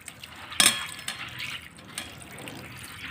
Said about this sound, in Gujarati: અહીંયા બીજું ચોખ્ખું પાણી એડ કરી આપણે મગને સરસ રીતે ધોઈ લઈશું